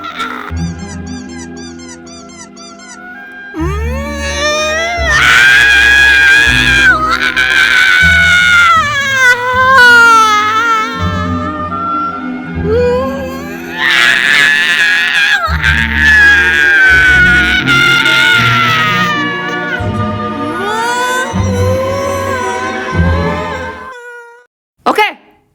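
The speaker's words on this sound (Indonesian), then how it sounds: "Ini teriakannya lumayan lebih variasi daripada yang lain ya." A person with a sprained ankle from a marathon screams and wails in pain through long, loud, varied cries that rise and fall in pitch almost without pause, with a short burst at the end.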